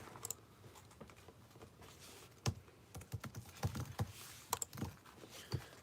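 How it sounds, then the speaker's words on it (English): Rapid typing on a computer keyboard, close and fairly quiet, with irregular bursts of sharp key clicks and a few louder keystrokes, no talking. "God, this stupid keyboard."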